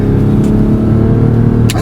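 The 3.5-litre engine of a 2013 Lexus RX450h hybrid is pushed hard, giving a loud, steady, close-up roar of acceleration that lasts under two seconds.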